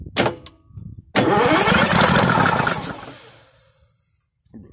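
A Detroit 6-71 two-stroke diesel engine cranks with short bursts, then catches and roars loudly for about two seconds, running rough and misfiring before dying away to silence.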